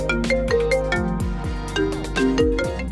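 A phone ringtone plays while calling a sister, a looping electronic melody of bright repeating tones, clear and close, with no voices.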